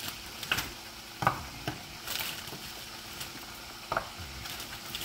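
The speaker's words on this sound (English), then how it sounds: "So I'm going to take some of it now and just fry it like this." Frozen fish balls fry in a pan with a quiet, steady sizzle, broken by several soft scraping and tapping sounds as they are moved around.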